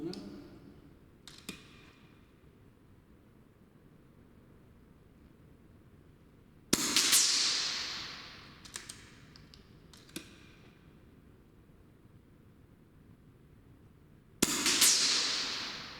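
AGT Vulcan MK2 .22 air rifle firing slugs, two sharp loud shots several seconds apart, each a crisp crack followed by a brief ringing tail, with light clicks and handling noises in between.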